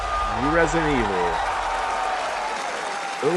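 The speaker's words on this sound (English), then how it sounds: "the crowd's going wild" A live audience applauding and cheering at the Resident Evil Requiem reveal, a continuous roar of clapping under a voice that talks briefly at the start and again at the end.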